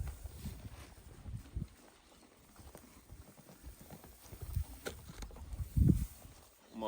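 Horses clip-clop slowly over frozen ground as they come up to eat fresh hay on a cold, snowy winter morning, with soft irregular hoof thuds and low rustling, faint and at moderate distance.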